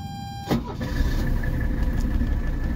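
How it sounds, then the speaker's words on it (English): A 1982 Mercedes 300SD engine cranks briefly and catches, then settles into a steady, close rumbling idle with a faint whine above it. "Let me just go ahead and crank the car."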